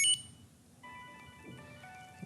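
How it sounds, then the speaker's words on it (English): An iPhone rings after being set off by a Chipolo card Bluetooth tracker, a short faint electronic ringtone with steady tonal notes over low room hum. "So if I've lost my phone, I can actually double click on the Chipolo card and it'll ring my iPhone,"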